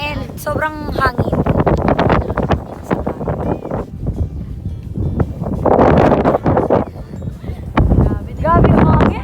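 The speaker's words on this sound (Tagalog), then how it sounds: "And sobrang hangin." Strong mountain wind on Gulugod Baboy buffets the microphone with a steady broadband roar, present throughout beneath people talking closely.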